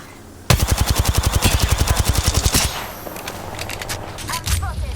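Rapid automatic gunfire in the video game Apex Legends, a loud sustained burst of evenly spaced shots lasting about two seconds, followed by quieter scattered distant shots and game sounds.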